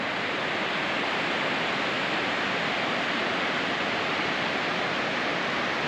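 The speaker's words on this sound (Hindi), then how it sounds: "नीचे पानी की बहुत ज़ोर की आवाज़ आ रही है," A waterfall below a foggy mountain road in Solang Valley, unseen through the mist, rushes with a loud, steady, broadband roar that holds unbroken for the whole stretch, with no voices over it.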